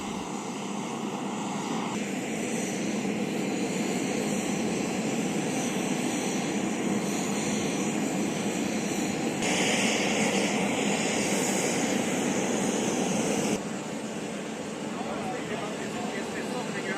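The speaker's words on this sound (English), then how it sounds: "particularly the MV-22B Osprey tilt-rotor aircraft" An MV-22B Osprey tilt-rotor aircraft drones loudly and steadily during a NATO defence exercise, its engine roar constant and close, shifting slightly in tone, with people talking over it.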